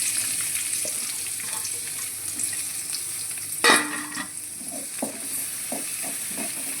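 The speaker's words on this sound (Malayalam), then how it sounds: "എണ്ണ ചൂടായി നമുക്ക് ഈ സവാളയിലോട്ട് ഇട്ട് കൊടുക്കാം" Sliced onions fry in hot oil with a constant bright sizzle, broken by a single clattering knock of a utensil and a few soft stirring scrapes.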